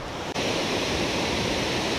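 Steady rushing roar of a waterfall at a Tennessee fishing spot, a broad constant wash of falling water close by with one brief dip early on.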